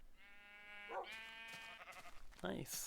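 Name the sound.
sheep bleating in the video game Minecraft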